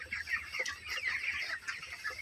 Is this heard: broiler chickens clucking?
yes